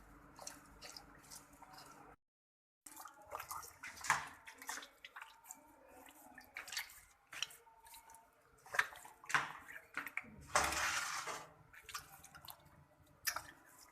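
Tripe (ojhri) being rinsed in water, with irregular splashing, dripping and squishing as it is handled, fairly faint and close, no speech.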